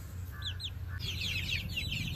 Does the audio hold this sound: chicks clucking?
yes